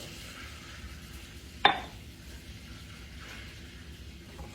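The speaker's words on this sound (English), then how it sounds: "And let me get this stirred up" A spoon stirs flour into melted butter in a soup pot for ham and potato soup: one sharp clank against the pot, then soft, quiet scraping and stirring close by.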